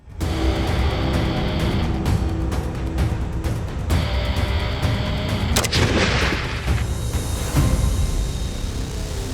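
Military weapons fire continuously during a firing task on an international patrol competition, a dense, loud barrage of overlapping shots and heavy booms with no pause throughout.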